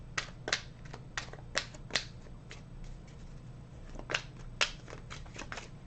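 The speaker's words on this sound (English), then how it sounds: "This deck is hard for me to shuffle." Shuffling a tarot card deck that is stiff and hard to shuffle, heard as a series of quiet, crisp card riffles and flicks in short irregular bursts, alone without talk.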